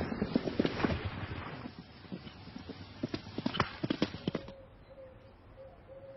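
Horses' hooves clop on hard ground in Normandy, a region of old feudal estates, with uneven clusters of moderately loud strikes at a middle distance. The clopping thins out near the end, leaving a faint hum.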